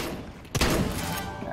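A single sharp gunshot cracks out in a Counter-Strike: Global Offensive match, a brief loud burst over a steady wash of game background noise.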